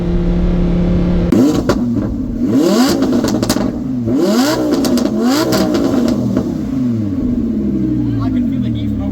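A Lamborghini Huracan fitted with a titanium HMD exhaust revs hard and downshifts, loud close-up blips sweeping up and down in repeated bursts with crackles, people talking over it.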